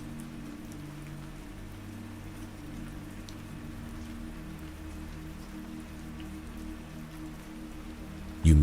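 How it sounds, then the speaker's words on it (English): Steady rain on the outer window glass of an overnight ferry docked in Norway, a continuous soft patter of drops over a low engine hum, ending in a brief louder bump. "Rain clings to the outer glass in small beads and narrow trails, catching the dock lights as they slide downward."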